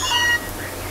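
A Meowth cries out in the Pokémon Moon game: one short, bright, tonal call that fades into a quieter electronic backdrop within a second.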